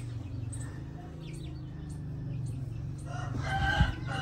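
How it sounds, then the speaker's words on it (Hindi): A rooster crows in a home farmyard where a buffalo is feeding, a loud harmonic call rising near the end over a steady low rumble of background noise. "और ये आ गई जी मुर्गी"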